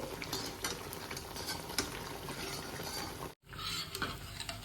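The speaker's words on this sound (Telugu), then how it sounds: "కొంచెం తక్కువ తక్కువ వేసుకొని ఫ్రై చేసుకోండి" Sweet dumplings of wheat flour and jaggery fry in hot oil, giving a dense, continuous bubbling sizzle with occasional clicks of a utensil. It breaks off in a brief silence, then resumes.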